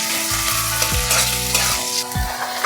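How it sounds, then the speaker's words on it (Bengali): Chopped onion frying in oil over a nigella-seed tempering, a steady close sizzle with scraping stirs and a tonal music bed running throughout. "পেঁয়াজটাকে আমি লাল লাল করে ভেজে নেব।"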